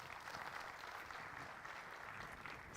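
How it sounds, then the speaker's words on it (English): Very faint, distant audience applause at an entrepreneurship awareness event in Hyderabad as a speaker is welcomed, a soft continuous patter of clapping with no voices standing out. "Please welcome him with a round of applause."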